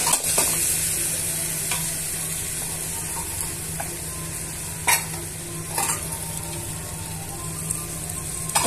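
Chicken pieces frying with spices in a pan, a loud steady sizzle up close, punctuated by a few sharp scrapes and knocks of a stirring spoon.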